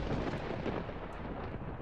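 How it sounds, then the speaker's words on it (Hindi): A thunder crack sound effect in a horror story rolls as a dense, loud, continuous rumble with deep low-end weight, filling the short stretch with no voice over it. "तभी जोर की बिजली कड़की और बारिश शुरू हो गई"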